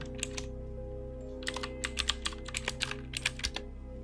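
Rapid clicking keystrokes on a computer keyboard, a short burst then a pause followed by a longer run of close taps over a steady low electrical hum.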